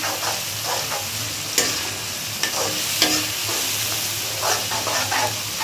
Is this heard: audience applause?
no